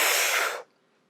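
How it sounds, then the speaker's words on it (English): A deep, forceful inhalation to total lung capacity, as taken for a spirometry test, heard as one loud, close, broadband rush of air lasting about half a second before cutting off to silence. "this is breathing into total lung capacity."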